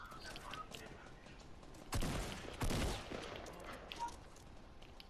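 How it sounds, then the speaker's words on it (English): Two short bursts of rapid gunfire in the Fortnite battle royale game, fairly quiet against a low background hum, with no voices. "Keep shooting."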